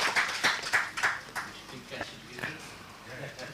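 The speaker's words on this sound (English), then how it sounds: "who deserves an applause" Scattered applause at a research methodology workshop, a handful of claps in an indoor room, fairly faint and thinning out over a few seconds.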